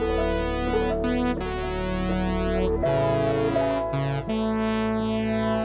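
A thick Universal Audio synthesizer pattern plays in steady stepped chords, bright and buzzy with a deep low bass, changing notes every second or so, loud and continuous.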